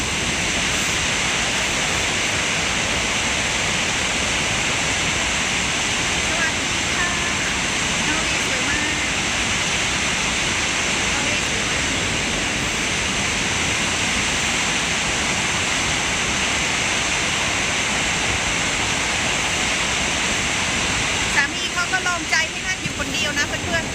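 Waterfall at Verdal, Norway, in cold rainy weather, giving a steady broadband roar that runs unbroken at close range, with a brief rustle or handling noise near the end.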